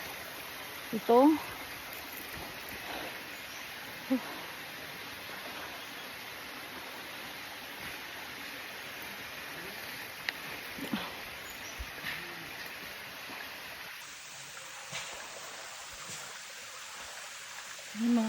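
A rocky creek runs over stones along a rough footpath on the way to a coconut copra drying area, giving a steady, soft rushing wash beneath occasional brief speech and a few faint clicks.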